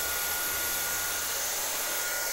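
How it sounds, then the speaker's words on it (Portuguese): A hair dryer blows steadily for the whole stretch, loud and close, a constant rushing hiss with no pauses and no voices. "antes de eu colocar o secador, eu me preocupo em deixar esse cabelo bem alinhadinho"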